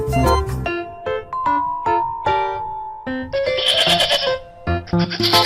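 A goat bleats in several loud, wavering cries close by, with short pauses between them and no talking.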